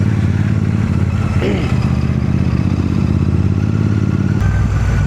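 A Royal Enfield Super Meteor 650 cruiser motorcycle engine rumbles loudly and steadily up close, a deep continuous roar with a brief shift in tone near the end.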